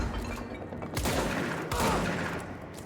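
Sniper gunfire in the video game Control, a few heavy reports with booming low-end tails arriving about once a second amid game ambience, fairly loud and close, no talking.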